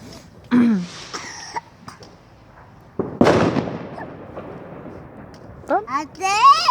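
Fireworks thud in a couple of bursts, one sharp boom near the middle, heard alongside a young girl's vocalizations and an adult speaking Danish nearby.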